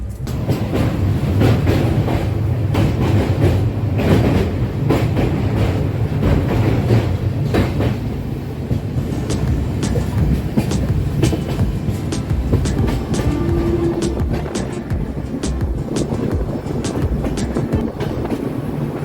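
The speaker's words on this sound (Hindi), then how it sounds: "महानंदा वाइल्ड लाइफ सेंचुरी से हमारी ट्रेन गुजर रही है" A tourist train with vistadome coaches rolls steadily through Mahananda Wildlife Sanctuary near Sivok in Darjeeling district, its continuous loud rumble broken by rhythmic wheel clatter over rail joints for the whole stretch, with no voices.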